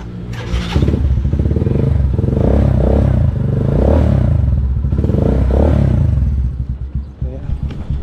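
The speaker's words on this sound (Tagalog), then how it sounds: "Painitan lang natin saglit yung kanyang makina." A car engine idles and warms up, a steady low rumble with rhythmic mechanical clatter that swells and eases over several seconds.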